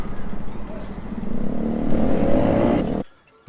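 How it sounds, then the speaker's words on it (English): Mopeds racing past at a Southampton cruise port, a rising buzzing engine noise that swells over about three seconds then cuts off abruptly, with faint background ambience. "Mopeds are racing past as per usual."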